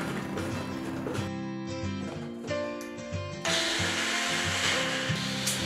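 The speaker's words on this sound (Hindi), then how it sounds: "मिक्सी तो मिक्सी ही होती है, टाइम ले ली थोड़ा सा।" A kitchen mixer grinder whirs loudly as it grinds grated coconut and turmeric into a masala for cabbage thoran. The motor drones steadily, its pitch shifting as the load changes, with a brief lighter stretch partway through.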